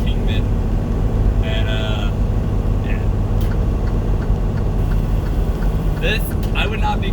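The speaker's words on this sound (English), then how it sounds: "You hear a lot of jaking because I am descending down into Kingman," A loud, steady low engine drone of a truck's engine brake while descending toward Kingman, Arizona, fills the clip, while a person talks briefly over it.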